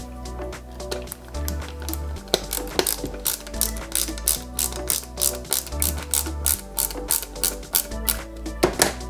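A small screwdriver drives a second screw into a 1/8-scale Mercedes-Benz 300 SL model kit, producing close, rapid ratcheting clicks in quick bursts with short pauses between turns.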